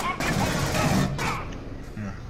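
Rapid gunfire bursts from a shooting video game, a couple of dense crackling volleys then quieter scattered shots, loud and close with some background game noise.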